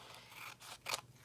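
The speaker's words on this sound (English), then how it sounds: "cut with my scissors." Scissors cut through a paper page during craft work, giving a few quiet, close snips and short scraping slices in quick succession, alone without talk.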